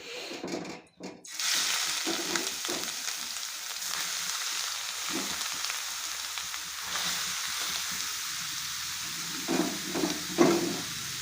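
Grated carrots sizzle and fry in a hot kadhai, a steady close hiss with occasional scraping stirs and clinks, building after a brief pause near the start.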